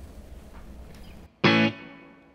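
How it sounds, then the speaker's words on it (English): An electric guitar through a split pedalboard with a short TonePrint reverb pedal, a single bright struck chord that rings briefly and then cuts off quickly with a brief decaying tail, after a quiet low hum. "it's obviously quite a short reverb."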